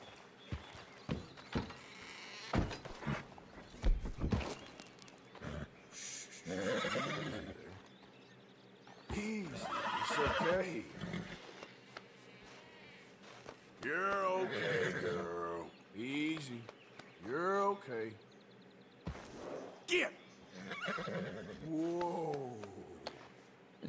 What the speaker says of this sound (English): And that's one angry horse.